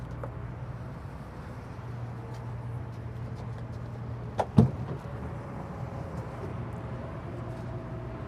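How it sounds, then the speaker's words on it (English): The hood of a Renegade Verona Super C motorhome opens with a short, sharp mechanical clunk and latch rattle midway, set against a quiet, steady idling hum. "I'm gonna pop this hood real quick."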